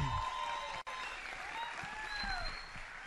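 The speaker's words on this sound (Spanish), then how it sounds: "Un aplauso para ellos, por favor." Audience applause at a Spanish-language stand-up comedy show, a steady wash of clapping heard at moderate distance for a few seconds with faint voices and tones in the background.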